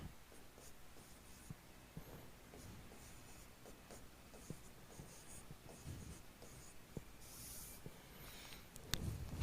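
A maths problem is written on a board, with faint, scratchy strokes and light taps in an irregular rhythm over low room noise, ending in a louder knock.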